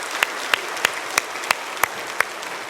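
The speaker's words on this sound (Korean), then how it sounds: "감사한 마음으로 박수 한번 다시 할까요?" A church congregation at a Sunday worship service claps together in a steady unison beat, seven sharp, evenly spaced claps over a low crowd murmur.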